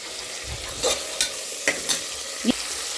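Ginger garlic paste, coriander, mint and tomato roasting in a pan: a steady close sizzle broken by several sharp scraping and clinking stirs of a spoon against the pan, with no voices.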